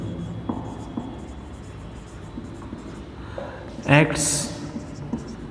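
A pen scratches out notes in short strokes, with a brief louder scrape midway, under a voice speaking steadily throughout.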